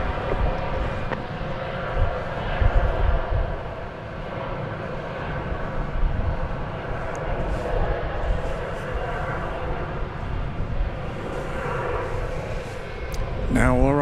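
An Airbus A321 airliner on runway 36 left at DFW Airport produces a steady, loud, broad engine roar, with voices talking over it.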